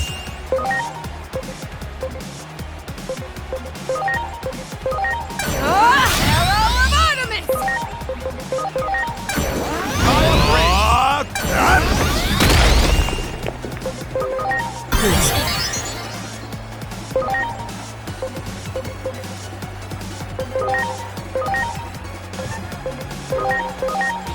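A special attack called Arrow Force unleashed in the video game Digimon Story Time Stranger, with loud bursts of crashing, whooshing effects and music, and a low sustained rumble as it fades.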